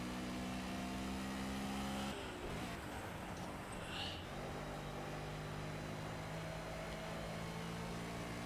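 A race car engine in the video game Project Cars, on the Hockenheim National circuit, holds a steady high whine, then briefly drops and rumbles as it shifts and slides before it returns to a sustained drone at close range.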